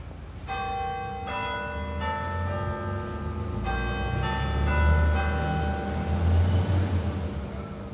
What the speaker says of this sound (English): I just love to hear like church bells and all of that